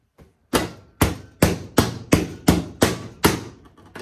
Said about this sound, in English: Fold that back over, staple it all back down again.